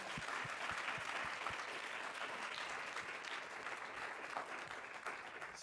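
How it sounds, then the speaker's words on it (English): Spontaneous audience applause fills the hall after a university research day keynote, steady dense clapping throughout with a few sharp near claps, no speech over it. "spontaneous applause is a great thing"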